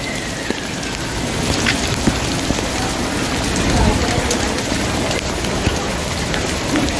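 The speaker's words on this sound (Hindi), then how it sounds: "बहुत तेज़ बारिश हो गई है इस वक्त" Heavy rain pours down in the afternoon, a dense, steady hiss of drops striking surfaces, with occasional louder splashes, continuing throughout.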